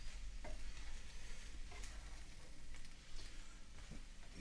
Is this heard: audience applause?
no